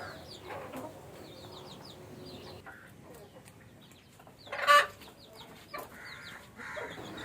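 Free-range desi chickens cluck softly on a farm while being fed kalmi greens, with scattered short clucks at moderate distance and a louder burst of squawking partway through.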